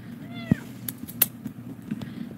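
A pet cat gives one short, fairly faint meow early on, followed by a few sharp clicks and knocks against a low indoor hum.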